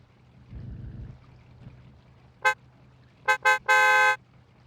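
Truck horn in the video game SCUM: one short honk, two quick toots and then a long steady blast, loud and close, following a low engine rumble, with no talking.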